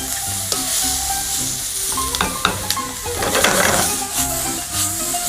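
Peppers and sausage for Greek spetsofai fry in a pan, a loud close sizzle broken by repeated stirring clinks and scrapes, with no voices.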